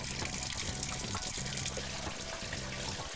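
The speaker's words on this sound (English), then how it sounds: "The etched piece is then placed under hot water" Hot water from a tap runs steadily over a piece of etched art glass to soften the resist, a close, continuous splashing stream with no talk.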